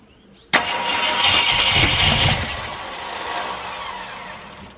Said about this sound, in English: I'm gonna fire this thing up, see what happens